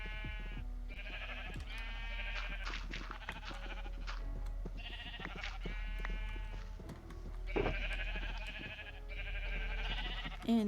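Sheep bleat repeatedly, several overlapping animals calling in bursts close by, over a low steady background hum and without any talk.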